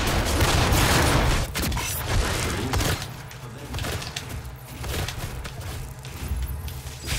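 Rocket blasts ripping through a DOOM multiplayer match, a dense roar of explosions and gunfire loudest in the first three seconds, then continuing as repeated thuds and crackling bursts under the busy game mix.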